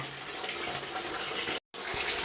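Water runs steadily from a repaired bathroom shower faucet, a loud continuous broadband gush that cuts out briefly near the end and then resumes.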